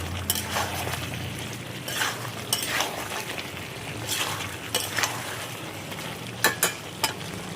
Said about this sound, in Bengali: আলু দিয়ে একসাথে নাড়ছি